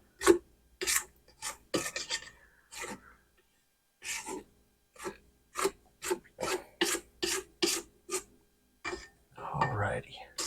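A spatula scrapes cookie dough off the sides of a mixing bowl in a series of short, quiet rasping strokes with gaps between them. A soft voice murmurs faintly near the end.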